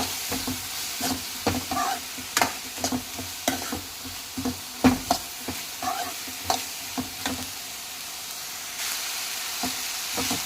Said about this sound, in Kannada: ಹೀಗೆ ಫ್ರೈ ಮಾಡಿ ಚೆನ್ನಾಗಿ ಓಡಿ ಬಿಡಿ ಅಲ್ಲಿ